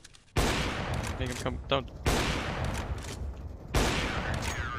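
Loud bursts of gunfire from the video game CS:GO, three sharp volleys in quick succession, with a voice talking between the shots.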